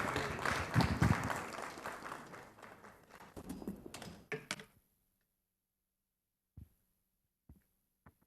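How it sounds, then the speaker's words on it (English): Applause at a ceremony in Ghana welcoming the Managing Director of Graphic Communications Group, dense clapping that thins and stops after about four seconds, leaving silence broken by a few isolated taps. "A round of applause for him."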